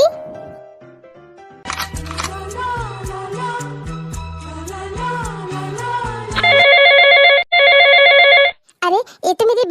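A telephone rings loudly in a domestic comedy skit, its bright repeating electronic ringtone pulsing in bursts after a stretch of background music, with brief gaps between rings and no talking over it.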